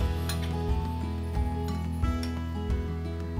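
Cockles and a Thai-style sauce being stirred together in a salad bowl, with soft wet clinks and scraping strokes repeating at a steady pace over a low steady hum, no voices.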